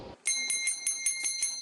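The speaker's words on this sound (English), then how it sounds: "the sound of that bell signals the end of every workday before the screens go dark" A bell at the KT telecom company signals the end of the workday, ringing in about seven bright, evenly spaced metallic pulses that follow a brief murmur at the start.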